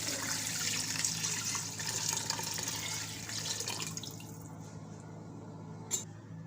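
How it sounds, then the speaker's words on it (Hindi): Two litres of water poured into a pressure cooker holding beef trotters, a steady splashing, running stream close by that carries on for about four seconds, thins out, and ends with a single sharp clink. "इसमें 2 लीटर पानी शामिल करेंगे।"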